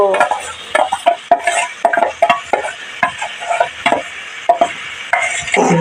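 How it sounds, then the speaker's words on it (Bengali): Ground green pea paste with ginger and green chili paste cooks in a pan for a kachori filling, stirred with a utensil that scrapes and clacks in quick, repeated strokes over a light sizzle, with no talking. "এবারে মটরশুঁটি মটরশুঁটি বাটা ঢেলে দিল"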